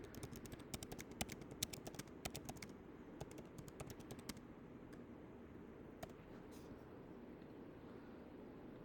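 Quick, irregular keystrokes on a computer keyboard clatter close by in bursts during the first half, then thin out to occasional taps over a steady low room hum.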